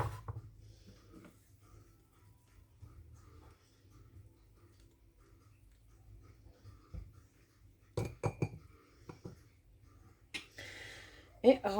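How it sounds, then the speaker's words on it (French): Ramekins are filled with crème brûlée mixture, giving sparse clinks and knocks of dishes and utensils. Quiet stretches separate them, with a cluster of louder clinks near the end and occasional faint speech. "Et remplir 4 ramequins."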